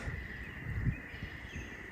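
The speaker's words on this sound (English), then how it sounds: "Do you hear the cicadas?" Cicadas hum in the woods beside a cottage garden driveway in May, a faint, steady high drone holding through the whole moment with no break.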